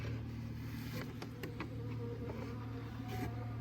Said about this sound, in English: I've got bees that are